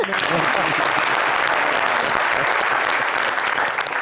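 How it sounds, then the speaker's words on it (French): Studio audience applauding on a Friday evening talk show, a dense continuous round of clapping that holds steady and loud, with voices faintly underneath. "Mais applaudissez pour vous."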